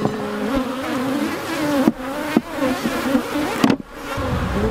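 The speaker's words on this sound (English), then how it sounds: "This is where I apologize to the bees." Honeybees buzz steadily and close by while honey is being collected from a hive, a dense continuous drone with a few sharp thumps and knocks breaking through.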